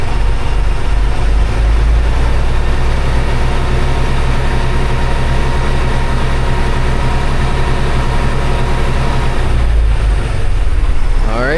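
A hazmat dry bulk tractor-trailer's heavy diesel engine idles steadily with a deep, constant rumble, rising slightly as it revs near the end; loud and close throughout.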